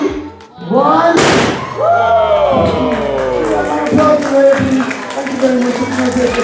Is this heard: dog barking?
no